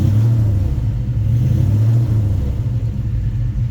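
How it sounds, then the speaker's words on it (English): Carbureted big block V8 idling with a deep, loud, lumpy rumble, steady and close, with slight rhythmic fluctuations throughout. "Your carbureted big block does not want to idle at"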